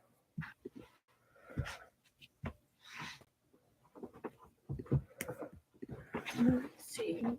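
A dog whimpers and pants indoors in short, close bursts, mixed in with people talking around it.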